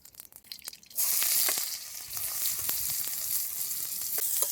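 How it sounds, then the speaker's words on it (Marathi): Mustard seeds sizzle and crackle in smoking-hot oil in a wok over a strong flame, starting suddenly after a second of quieter kitchen noise and staying loud and steady with scattered sharp pops. "आता तेल कडकडीत गरम झालंय आपण चमच्याभर मोहरी टाकली"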